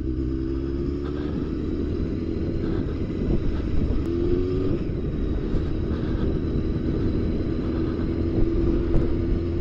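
A motorbike riding along a muddy country road between Roseisle and Findhorn, a steady engine rumble with wind noise, continuous and fairly loud, with small pitch shifts as the revs change.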